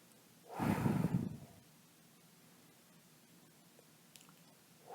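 One forceful breath blown out hard, a short loud whoosh near the start that trails into quiet room hiss, with only faint small sounds afterward.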